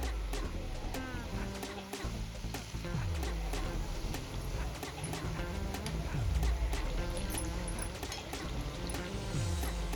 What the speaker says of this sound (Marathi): आता आपण ही साइड पण छान गोल्डन कलर येईपर्यंत तळून घेणार आहोत